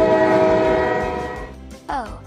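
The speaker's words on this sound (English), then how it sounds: "And this is a train." A loud, sustained train horn blares for about two seconds, then fades into a brief burst of a voice.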